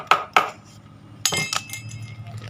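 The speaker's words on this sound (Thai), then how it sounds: "แล้วก็คนช้อนนะครับทำความสะอาดช้อนไปเลยนะครับ" Metal spoon clinking against a container while making green water to culture red worms, a few bright clinks and a short scrape, close and fairly quiet, with no voices.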